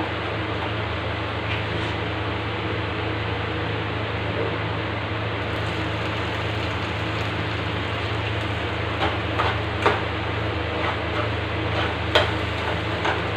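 A spoon stirs milk in a pot on the stove to cool it, giving soft scraping and light clinks that grow more frequent toward the end over a steady, even background hiss.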